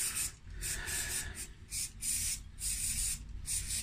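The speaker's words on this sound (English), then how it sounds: "just going to give it one last spray with carb spray, just in case any dirt's got onto it" Carburetor cleaner sprays onto a carburetor part from a Challenge Xtreme XSS40A lawn mower in a series of close, loud hissing bursts with short gaps between them.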